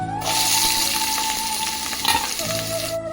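Onions and coriander leaves frying in oil in a pan, for an onion omelette: a steady, loud sizzle running the whole time with a brief burst of stirring near the end, no voices.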